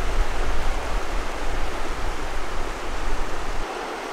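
A small stream flowing under a footbridge near a large spring in the Ozarks, a loud, steady rushing wash of water that continues without a break and eases slightly at the very end.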